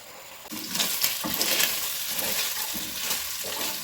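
Chicken pieces frying in a pan are stirred, a continuous close hiss of sizzling oil with scraping and shuffling bursts from the stirring, no one talking.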